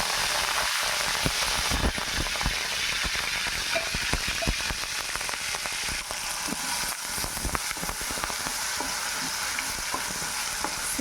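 Ginger garlic paste frying in hot oil, a loud continuous crackling sizzle with dense spitting pops running close and steady throughout.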